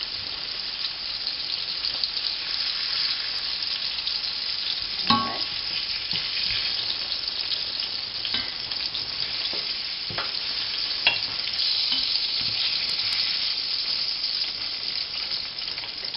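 Iberian pork cheeks frying in a pot give a continuous hiss and crackle, broken by scattered clinks and scrapes of stirring, steady and close over a long stretch with no speech.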